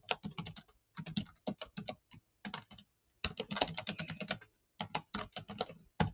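Rapid typing on a computer keyboard, close and clear, with bursts of quick keystrokes separated by short pauses and no talking.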